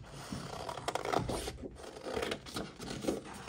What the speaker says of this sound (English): I wonder if I can detail cut this piece out.